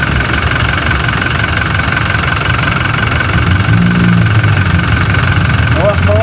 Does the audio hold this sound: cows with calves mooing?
no